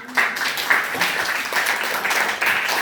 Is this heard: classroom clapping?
yes